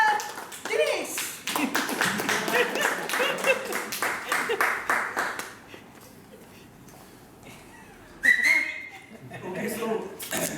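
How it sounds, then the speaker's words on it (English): Audience at a Toastmasters club meeting claps steadily for about five seconds, then the clapping thins out and a sharp whistle cuts in near the end, followed by scattered late claps. "So give a big round of applause, Toastmaster Dinesh."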